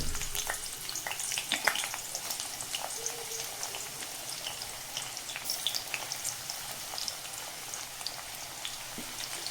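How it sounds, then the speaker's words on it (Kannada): Onions frying in hot oil in a kadai give a soft, steady crackling sizzle with scattered pops and faint stirring, close and fairly quiet throughout. "ಕಡಾಯಿಗೆ ಆಯಿಲ್ ಹಾಕ್ಕೊಂಡಿದ್ದೀನಿ, ಒಂದು 5 to 6 ಸ್ಪೂನ್ಸ್ ಅಷ್ಟು. ಇವಾಗ ಅದಕ್ಕೆ ಆನಿಯನ್ಸ್ ಹಾಕೊಂಡ್ಬಿಡೋಣ."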